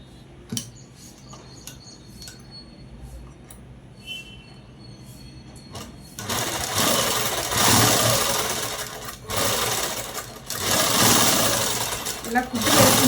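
A sewing machine runs in loud bursts while stitching a long frock, starting after a quieter stretch of soft handling noises and a voice, then whirring with brief pauses.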